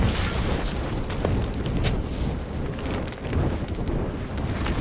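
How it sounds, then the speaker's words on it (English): A turret is destroyed in League of Legends amid a dense, continuous crackle of explosive game effects, loud and busy throughout with scattered sharper bursts. "Blue Team's turret has been destroyed."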